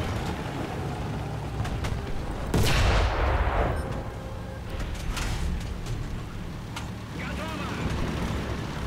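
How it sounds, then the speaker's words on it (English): A gunshot rings out in the tank battle game War Thunder: one sharp loud report near the middle, standing above dense rumbling engine and battle noise that runs throughout. "I also saw a shot just ring out on me"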